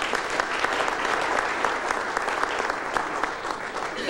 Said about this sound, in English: please a round of applause for our guest speaker this evening